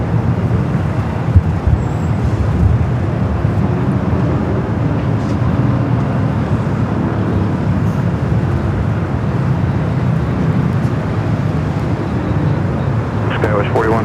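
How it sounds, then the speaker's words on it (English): A French Bee Airbus A350-900 pushes back from the west gates at Los Angeles airport, heard as a steady, continuous distant roar of engines and airport ground noise. "Doing the French B, heading back to Paris, Orly, A350-900, just pushing back from the gates at the west gates"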